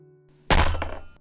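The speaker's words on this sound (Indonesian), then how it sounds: "Alma memukul meja dengan begitu keras hingga suaranya terdengar di luar ruangan" Fist slammed hard onto a table as an audiobook sound effect, one close heavy thunk with a short wooden rattle after it, standing alone after a faint hum.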